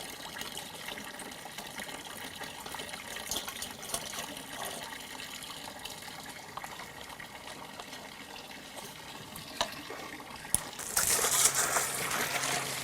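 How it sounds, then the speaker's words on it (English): Water pours into a container to mix a soil bacteria treatment, a faint, steady running trickle that swells into a louder gush near the end. "And then we'll fill it with water."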